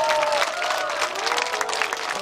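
Outdoor audience at a traditional pumba street performance at Yeongildae Beach claps in a sustained burst of applause, with a sung or spoken voice carrying over the crowd.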